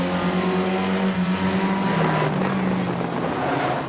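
Banger racing cars roaring around a track, a loud, continuous engine drone with a gear change partway through and engine whine rising and falling across the whole stretch.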